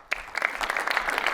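A comedy-show audience breaks into clapping, starting with a sharp clap and swelling into steady applause from a moderately sized crowd, fairly close.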